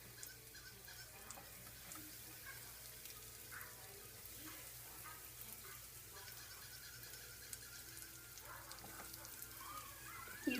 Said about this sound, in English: You can hear it sizzling as it goes in the oil.